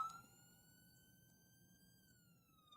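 An ambulance siren wails outside, faint and distant, holding a steady tone with a slight downward drift as it passes, with no talk over it.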